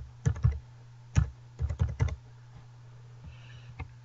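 Keys clatter on a computer keyboard as a web address is typed, in short bursts of quick presses separated by pauses, close, over a steady low hum.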